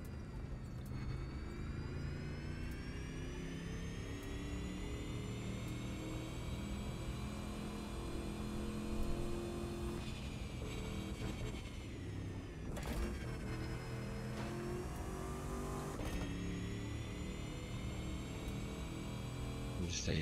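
A race car engine in The Crew 2 drones steadily and faintly, its pitch climbing and dipping with the throttle, while a voice talks quietly over it.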